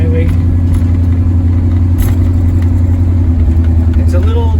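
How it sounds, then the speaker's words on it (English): Inside the cab, a vehicle engine with a lumpy camshaft drones low and steady while the vehicle cruises on a highway near downtown St. Paul. The noise is continuous and fairly loud, and someone talks over it. "It's a little noisy in the cab, but that gives it character in my opinion. It's the camshaft on here is a little on the lumpy side,"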